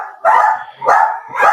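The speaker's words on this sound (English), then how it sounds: "I'm glad I came back just in time for the dogs. There they go." Dogs bark indoors in three loud, close bursts, each a quick cluster of barks separated by short pauses.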